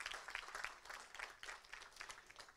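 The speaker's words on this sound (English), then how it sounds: "Round of applause for all of you." Faint, continuous applause from an audience at a retail-industry business event in Petaling Jaya, a soft, even patter of many hands heard from a distance.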